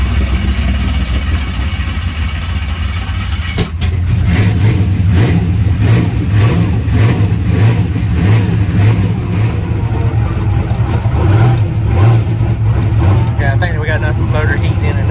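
A drag car engine running on brake clean sprayed into the turbo: a loud, close, low rough idle that sputters at first, then settles into rhythmic pulsing revs.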